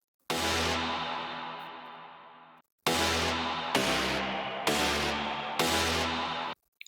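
A layered synth stab built from cashmere-style patches in FL Studio: one long sustained hit that slowly fades, then a brief gap and four shorter punchy stabs in steady rhythm, loud and dry with no voices.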